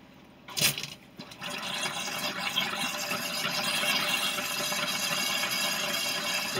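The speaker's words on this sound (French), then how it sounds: "Donc là on entend bien l'air qui s'échappe jusqu'à ce que ça coule." Air hisses and sputters from an opened hot water tap fed by a Truma CD 400 boiler, starting with a sharp burst and then a steady rushing flow that gradually builds as water begins to run.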